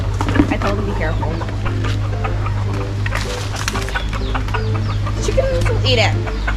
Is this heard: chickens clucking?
yes